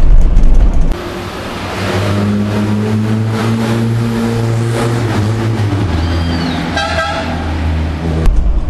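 A 1973 Mini 1275 GT engine runs and rises through steady revs, with a loud, close mechanical drone that climbs in pitch, plus a brief horn-like tone near the end, and there is no talking.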